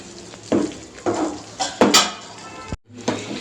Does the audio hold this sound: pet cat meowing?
no